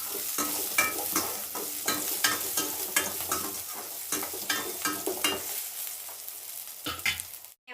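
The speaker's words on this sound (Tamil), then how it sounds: "அதையும் வதக்கலாம். கொஞ்சம் எண்ணெய் ஊற்றிக்கிறேன்." Onions and other ingredients for mutton kuzhambu sauté in oil in a pan, with close sizzling under repeated stirring scrapes at an uneven rhythm, tapering off near the end.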